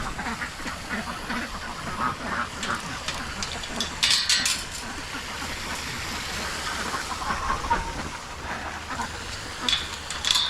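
Ducks quack repeatedly at close range on a farm during morning chores, the calls overlapping in an irregular chatter, with occasional honk-like calls mixed in.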